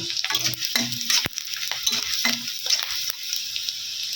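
Dried red chilies and chopped onions fry in a pan, a bright sizzle broken by repeated clinking spatula stirs and scrapes against the metal, close by with no talk.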